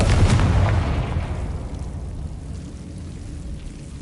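Confringo fire spell blast from the Hogwarts Legacy video game: a loud, booming explosive burst at the start that rumbles and decays into a long fading roar with crackling debris.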